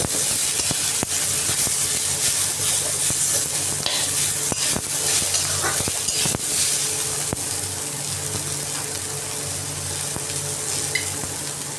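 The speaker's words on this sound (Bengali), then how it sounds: "পেঁয়াজ আর কাঁচা লঙ্কাটা দিয়ে এটাকে নাড়াচাড়া করতে" Onions and green chillies fry with a steady, loud sizzle in a pan for a bitter gourd curry, with repeated sharp scrapes and knocks of a spatula stirring throughout.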